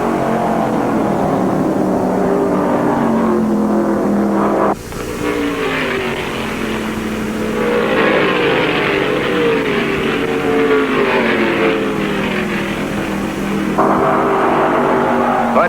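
Stock cars, including a big Mercury, race on an oval in the 1974 World 600, a loud, dense roar of several engines whose pitch swells and shifts as the cars pass, with a sudden change partway through.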